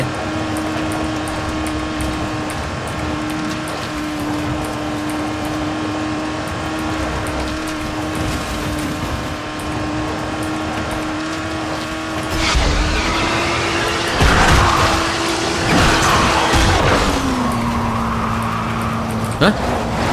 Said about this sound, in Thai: ขับรถไปขับรถมาเปลืองน้ำมันโว้ย